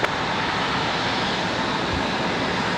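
A Southwest airliner landing on the runway at Raleigh Durham airport makes a loud, steady broadband jet roar that fills the whole stretch without easing, heard close with no talk.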